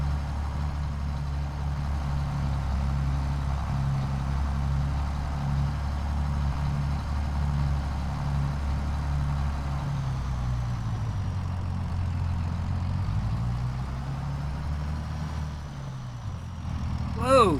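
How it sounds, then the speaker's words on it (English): A tractor engine in a farming video game runs steadily throughout, a low droning hum with slight pitch shifts near the end, close and constant with brief clatter at the finish. "Whoa, tractor, whoa."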